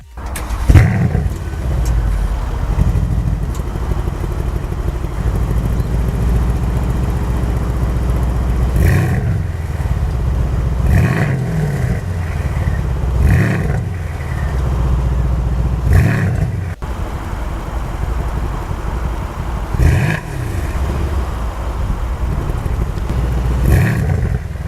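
A 2018 Mercedes-AMG C63S in race mode revs its exhaust up close, with repeated loud throttle blips and bursts of crackle over a steady deep idle rumble, while music plays faintly in the background.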